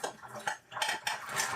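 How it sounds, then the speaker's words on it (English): A small camping cook set, a little frying pan and a pot, being handled with brief clanks and metallic rattles of nested cookware, close and fairly quiet, over about a second and a half. "I got my cook set, a little frying pan and a pot"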